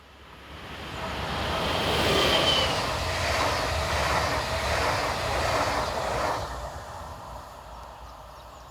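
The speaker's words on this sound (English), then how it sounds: "we see 146575 with a train for Dresden" Locomotive 146575 hauls a train bound for Dresden past the listener, a broad rolling rumble and wheel noise that swells, holds, then fades away, with no voices.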